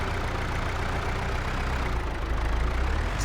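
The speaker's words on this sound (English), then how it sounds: "it's quite amazing this tractor can pull it as well as it does" A tractor engine pulls a wide cultivator across a farm, giving a steady low, heavy drone that stays loud and even throughout.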